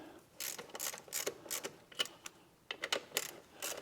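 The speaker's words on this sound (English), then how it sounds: "I'm going to tighten these bolts down." A hand ratchet wrench tightens bolts on an old Mercedes 300D diesel engine in a workshop, giving quick bursts of close, crisp clicking strokes with short pauses between them and no talking.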